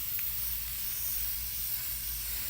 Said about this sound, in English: As you can see, I'm spray painting it.